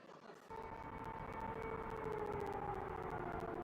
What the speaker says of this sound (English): The day dawned and the sirens sounded.